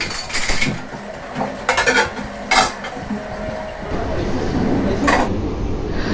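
Dishes are washed in a home kitchen, with pots, plates and cutlery clinking and clattering in several short bursts over running water, close and fairly loud, with no voices.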